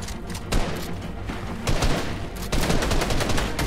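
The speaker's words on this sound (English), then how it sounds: "Joey, keep shooting." Gunfire in the video game Fortnite, repeated loud bursts of rapid shots from close range, with sharp clusters and short pauses between volleys and no talking.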